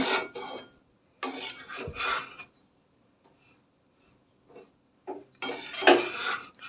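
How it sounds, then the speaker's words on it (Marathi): Ragi flour dry-roasted in a pan for jaggery laddoos while being stirred: rasping scrapes of a spatula across the pan in several separate bursts, close and clear with pauses between. "आता अजून हलवून हे भाजून घेऊया"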